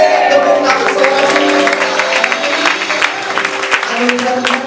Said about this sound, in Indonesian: Tepuk tangan saudara.